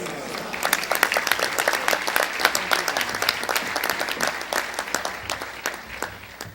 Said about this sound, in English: Let's give Sister Minister Ava another round of applause